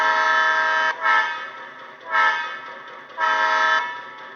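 Model Athearn Genesis AB locomotive with a TCS sound decoder through the original Athearn speaker sounds its horn in three sustained blasts, each briefly swelling, loud and close with no talk.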